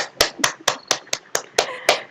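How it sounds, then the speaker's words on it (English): Sparse clapping at an academic conference as a professor is introduced: about eight crisp, evenly spaced claps, close and clear, like only one or two people clapping. "please give a massive round of applause to Professor Jessica Fain."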